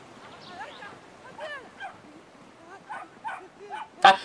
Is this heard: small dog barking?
yes